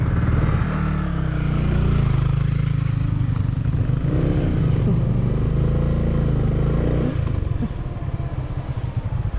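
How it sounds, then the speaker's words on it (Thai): A Yamaha Exciter 155 motorcycle is revved hard with the brake lightly held, a loud nearby engine roar that holds steady for several seconds with some rattling, then eases off toward the end. "กำเบรกนิดนึง แล้วก็บิดแรงๆ"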